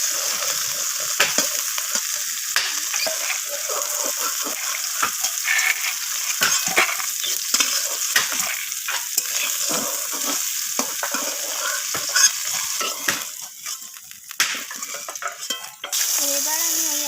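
Drumstick pieces and bitter gourd fry in hot oil, giving a steady loud sizzle with frequent stirring scrapes and clinks of a utensil against the pan throughout.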